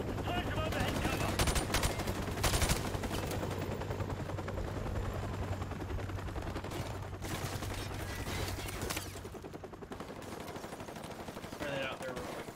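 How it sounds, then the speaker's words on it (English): A helicopter makes a pass overhead in a military video game, its rotor thumping steadily under bursts of machine-gun fire and scattered gunshots, with players talking faintly over it. "That helicopter's making another pass."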